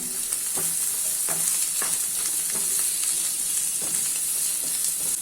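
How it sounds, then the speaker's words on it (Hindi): Sliced onions and two green chillies frying in hot oil, a constant close sizzle broken by a few soft stirring knocks, with no speech. "अभी इसमें स्लाइसेस में कटे हुए ऑनियन ऐड कर लेना है, 2 हरी मिर्च ऐड कर लेना है और मिक्स कर लेना है।"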